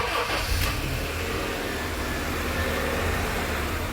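Engine of a 2001–2005 Honda Civic idling smoothly and steadily, a constant low hum from start to finish with no talk over it.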